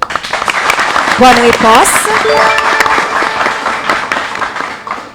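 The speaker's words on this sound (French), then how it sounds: "Chaque équipe a applaudi l'autre" Audience applause breaks out at a Haitian high-school quiz contest after a correct answer, a loud burst of clapping mixed with a host's voice and crowd chatter that continues under talk.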